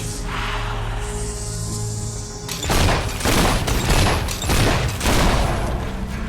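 Gunfire in the Fable III video game breaks out after a quieter stretch: a series of loud, rapid bursts and booms in close succession, with no voices over it.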